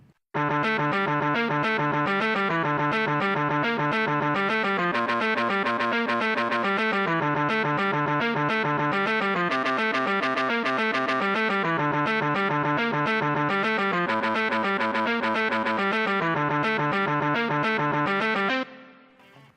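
A heavily distorted electric guitar plays a sustained melodic harmony line, loud and continuous, with a chorus-like shimmer before it stops abruptly.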